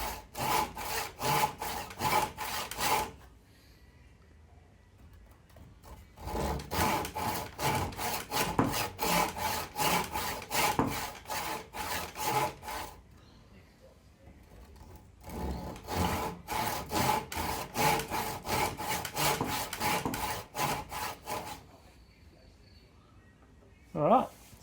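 A hand saw cuts repeatedly into a wood joint in quick, rhythmic back-and-forth strokes. Three long bursts of sawing are separated by short quiet pauses.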